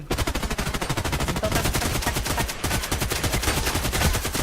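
Automatic fire from an AK12 rifle in the shooter game Contract Wars: loud, dense bursts of rapid shots that run almost without a break for several seconds.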